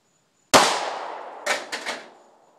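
A Glock pistol fired at a target outdoors: one loud, sharp crack with a long ringing decay, then three quicker, fainter cracks close together.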